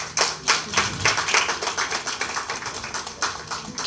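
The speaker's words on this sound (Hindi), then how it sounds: "एक बार तालियों से अभिनंदन करेंगे।" Audience clapping to welcome a guest at an anniversary function of a training institute, a dense burst of many hands with uneven rhythm, moderately loud and continuous for a few seconds without talk.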